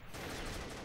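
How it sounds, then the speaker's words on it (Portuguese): A rapid burst of automatic gunfire in the shooter game Combat Arms, dense and loud, filling the whole short moment with rattling shots. "Nossa, que rajada!"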